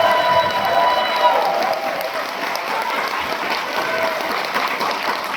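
A large crowd at a Korean political rally claps and cheers, loud and sustained for over five seconds, with a voice faintly audible among the noise.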